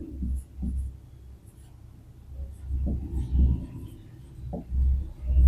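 Pen or chalk strokes while writing out a polynomial math solution: soft, intermittent scratchy marks in short bursts, fairly close, with faint low murmuring and handling noise between them.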